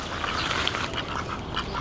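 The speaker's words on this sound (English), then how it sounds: "So you can see there's like ducks already here." Ducks quack steadily by a river on a spring day, a dense, close chorus of calls running without pause over the whole stretch.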